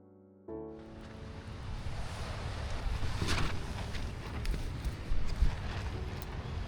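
Strong wind gusting across an uninhabited island at night, a steady broadband roar buffeting the microphone after a sudden start, swelling in louder gusts toward the end, with no voices.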